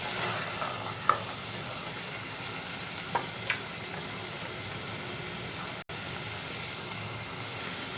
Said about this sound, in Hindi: इसे मज़ीद थोड़ा सा और फ्राई कर लूँ अदरक और लहसुन पेस्ट के साथ